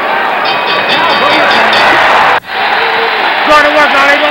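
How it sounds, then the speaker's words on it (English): A boxing crowd at the 1976 Ali v Young fight roars loudly and steadily, breaking off briefly, then surging again while a commentator talks over the noise. "The crowd going wild."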